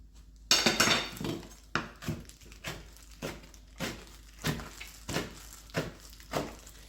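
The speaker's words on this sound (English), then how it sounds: "we're using chopped kimchi already, so we just got to give it just another nice little rough chop on this real quick" A knife rough-chopping kimchi on a cutting board gives about a dozen crisp knocks in a loose, steady rhythm, close and clear with no talking.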